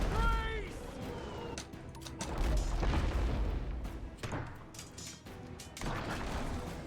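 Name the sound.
ship cannons firing in video game Abandon Ship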